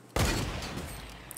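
A sniper rifle in the Fortnite video game fires a single loud, sharp shot, which rolls out into a long, booming tail of echo and fades, with no voices.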